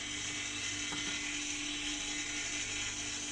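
A sewing machine stitches a school uniform nikker with a steady, dense mechanical whir and clatter that runs without pause, close and loud, with no voices.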